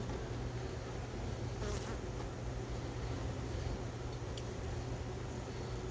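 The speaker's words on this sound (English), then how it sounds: "There's a bee right on the lens there." Bees swarm around a feed can outdoors, a continuous close-up buzzing drone that swells as individual insects pass near the microphone.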